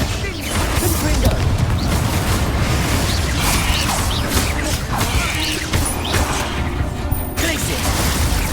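Confringo fire-blast spells exploding during a fight in the Hogwarts Legacy video game, a dense run of crashing booms and pops over continuous loud combat noise.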